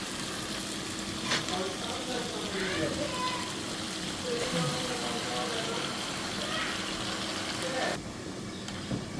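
Leafy greens dropped into a pan where taki fish fries with spices and potato, giving a steady loud sizzle and crackle throughout, with a brief burst of hissing as the greens hit the hot oil.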